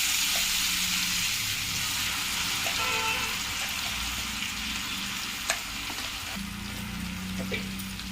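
Grated coconut fries in ghee in a pan, giving a continuous close sizzle with light stirring and a couple of soft utensil knocks, with no talk.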